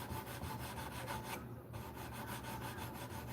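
Someone sands wood by hand indoors with quick, regular back-and-forth rasping strokes that are close and steady, broken by one brief pause midway.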